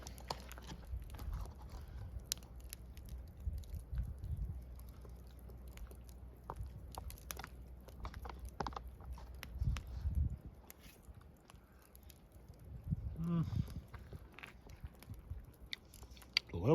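Quiet chewing of biscuits and sausage gravy at a campsite, soft crunching and mouth sounds close to the microphone over low background rumble, with no talking.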